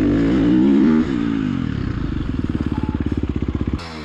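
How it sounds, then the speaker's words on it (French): An enduro motorcycle engine revs hard, then settles into a rapid, pulsing putter that throbs evenly for a couple of seconds before cutting off abruptly, loud and close. "on va aller dépouiller notre moto là-bas là"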